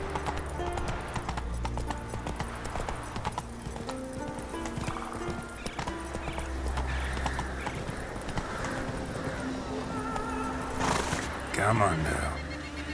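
Hoofbeats of Roach, a horse in The Witcher 3, clatter steadily throughout, with a rider's voice speaking briefly and a neigh rising near the end, close and prominent.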